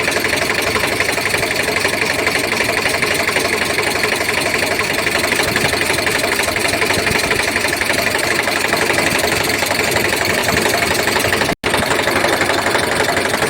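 An Eicher 368 tractor's diesel engine idles loudly and steadily at close range, a constant chugging rumble that runs unbroken except for a split-second cut near the end.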